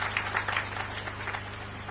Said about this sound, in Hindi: मैं चाहूंगा जोरदार तालियां नम्रता जी के लिए।